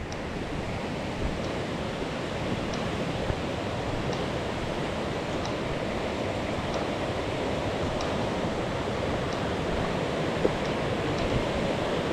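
A river rushing beside a hiking trail near Baker Peak, Vermont, heard as a steady, loud broadband roar of flowing water that continues unbroken throughout, with no talking.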